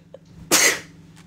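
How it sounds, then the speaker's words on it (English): A single sharp, explosive burst of breath, loud and close, lasting about a third of a second, with a faint click before and a soft breath after. "I was just sneezing for a moment"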